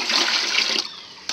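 Rice water, left over from cooking rice, is poured into a potted grape plant, a close, loud rushing splash that runs steadily, then cuts off, leaving a faint trickle and a brief final splash.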